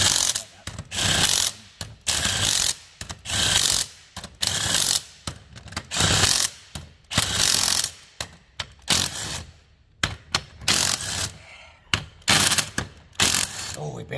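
A ratchet clicks in quick repeated bursts as the bolts on a Dana 60 axle's Eaton E-Locker differential are tightened, each burst a close, sharp run of pawl clicks separated by short pauses, with no talk.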